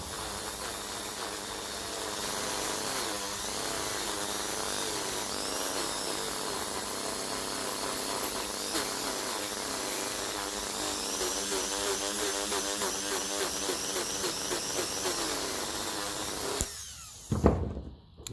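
A Dremel rotary tool whines steadily and close up for about sixteen seconds while cleaning rusty starter connections on a 1955 Ferguson 20 diesel tractor's Lucas starter, then cuts out, leaving a few brief clatters.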